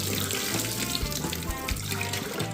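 A kitchen sink tap runs steadily while oxtails are rinsed under it, a close continuous splash and hiss of water without pause.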